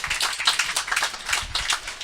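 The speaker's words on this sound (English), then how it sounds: "I consider that an applause to WashU in St. Louis" A town hall audience claps in a brief, scattered burst of applause with many overlapping hand claps at moderate distance and no speech over it.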